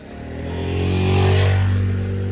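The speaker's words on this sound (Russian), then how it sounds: "И скутер чуть не наехал." A scooter engine swells as it passes close by, rising to a peak and then fading slightly in a brief pass.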